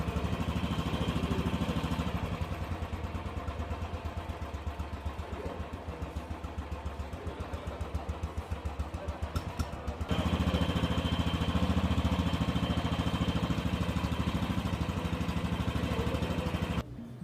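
Royal Enfield 350 Trials motorcycle idling with a steady single-cylinder thump, close and continuous, its rhythmic pulsing growing louder and heavier partway through as the revs rise, then cutting off at the end.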